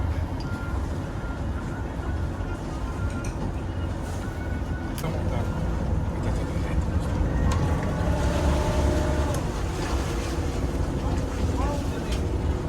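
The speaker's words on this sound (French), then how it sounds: "il n'y a plus qu'à pousser la manette de gaz" A catamaran's motor throttles up for departure, giving a steady low engine drone that grows louder partway through, with a person talking over it.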